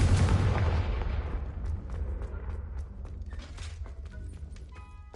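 A Confringo fire spell in Hogwarts Legacy bursting as a deep, loud boom with a heavy low rumble that slowly fades, followed by crackling debris and small game effect sounds.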